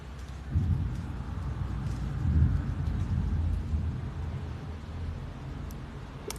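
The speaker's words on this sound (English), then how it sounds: "And you can enjoy the rain sounds." Steady rain pours throughout, with low rumbling that could be distant thunder, as a broad continuous wash of fairly loud noise with no talking.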